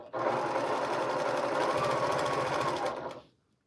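A sewing machine stitches quilt pieces in one steady, close, loud run of rapid mechanical whirring, then stops abruptly near the end.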